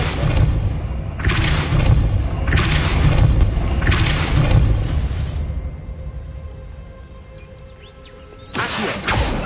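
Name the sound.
Depulso spell blasting an obstacle in the video game Hogwarts Legacy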